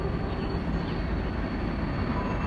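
Train rumbling past along the Pacific Crest Trail between Belden Town and Chester, a heavy, steady low roar with no breaks, loud and fairly near.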